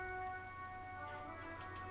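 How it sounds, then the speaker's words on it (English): Steady rain falls over the city of Revachol in the Disco Elysium video game, a constant soft patter under sustained musical tones with no talking. "All around you, rain falls on the great city of Revachol."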